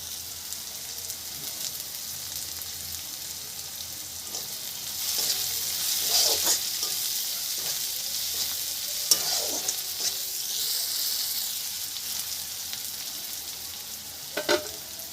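Thin slices of pointed gourd fry in a pan, a continuous close hiss that swells briefly when the slices are tipped in, with light stirring clicks and no speech.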